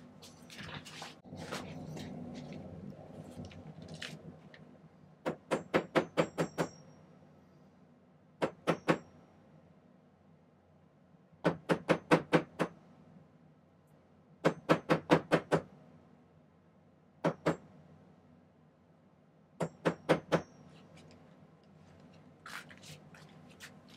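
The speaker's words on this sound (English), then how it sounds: "take it over to your hammering surface and lightly tap it with a plastic hammer." Light metallic taps of a plastic hammer on a silver ring in quick clusters of three to six, repeating every few seconds, close by and crisp over a quiet background.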